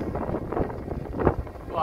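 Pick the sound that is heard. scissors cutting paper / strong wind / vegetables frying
strong wind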